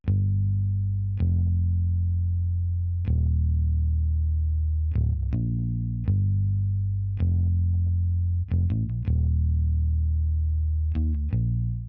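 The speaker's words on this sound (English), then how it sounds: "I added a bass line." Deep electric bass, a Rickenbacker, playing short palm-muted notes, a slow line of plucked root notes with clipped attacks and sustained low tones, distorted and alone.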